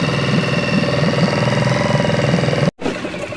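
A boat's outboard kicker motor idles close by, a steady rapid putter that runs evenly, then cuts out abruptly for a moment before resuming.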